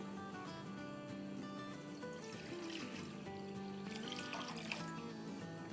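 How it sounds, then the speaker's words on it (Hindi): Six cups of water pour into a cooking pan for sticky rice, a faint, continuous splashing trickle that runs steadily and alone at low volume. "यहाँ हमारे पास 6 कप पानी है। तो चले पानी डालते"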